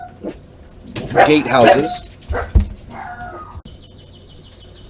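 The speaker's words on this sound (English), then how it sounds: "You can't do anything about the dogs." Dogs whimper and yelp in short bursts in the background while someone talks over them indoors.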